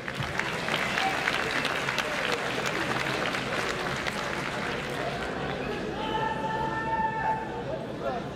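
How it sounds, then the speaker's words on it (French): Dense crowd applause at a French-Belgian judo match in the under-81 kg category, steady and loud from start to finish, with a few sustained tones and voices rising near the end. "avec vos applaudissements"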